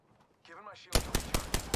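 Gunfire in a video game: after a brief spoken word, a quick run of about six evenly spaced, loud automatic shots.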